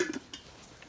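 Brief clatter of a metal cooking pot being moved and set down, a couple of quick clanks up close, then quiet room tone at a carp fishing camp.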